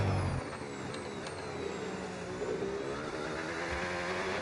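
Race car engine in the F1 26 video game, an Audi F1 car, droning steadily throughout with a continuous mid-range roar and faint rising whine, no talk over it.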